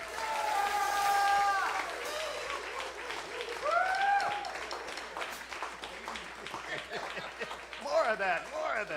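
Audience applause for an award-winning band leader at an evening jazz celebration, a steady wash of clapping from a full room, with brief voice-like tones rising above it at the start, in the middle and near the end.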